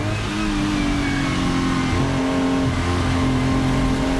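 A Porsche 935K race car engine accelerates hard on a long uphill straight, a loud sustained roar with shifting pitch, close and continuous throughout.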